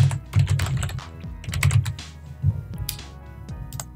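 Someone types a script name on a computer keyboard, with rapid clusters of close, crisp key clicks broken by brief pauses and an occasional heavier tap.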